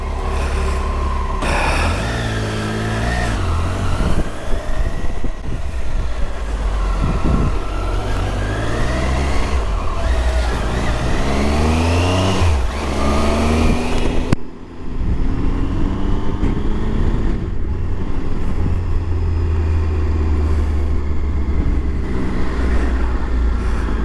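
Triumph Tiger 800 motorcycle ridden along a highway, its engine droning steadily with rising and falling revs through gear changes, loud and continuous with wind rush throughout.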